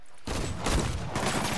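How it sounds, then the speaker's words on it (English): A shootout in Marvel's Spider-Man plays as a dense, continuous fusillade of gunfire that bursts in abruptly after a moment of quiet, rumbling and crackling throughout with low booms underneath. "Whoa, shoot out."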